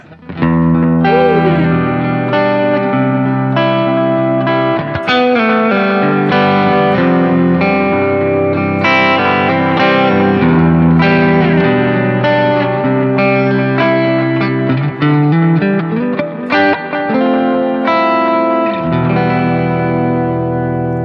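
A Rickenbacker 330 electric guitar plays through effects, including a Line 6 Echo Park delay, with strummed chords and single notes ringing out loud and sustained, thick with echo and reverb, and no talking over it.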